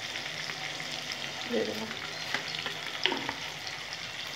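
Kashmiri chilli and sugar frying in hot oil, a steady close sizzle with a few stirring scrapes and a brief spoken phrase over it.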